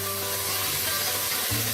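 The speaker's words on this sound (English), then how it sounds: "so I saute my mushrooms, you can see" Mushrooms sauté in coconut oil in a pan, giving a steady, close, bright sizzle with a low hum underneath and a small shift near the end.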